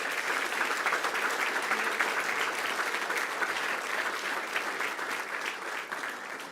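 A room full of people at a school board meeting clap steadily for a middle school orchestra being recognized, a dense even patter that holds for several seconds and eases slightly at the end.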